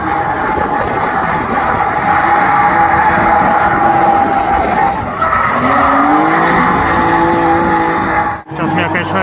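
A drift car passes close at a Lithuanian drifting event, its engine roaring loudly with a rising note as the tyres squeal in a long skid before the sound cuts off abruptly.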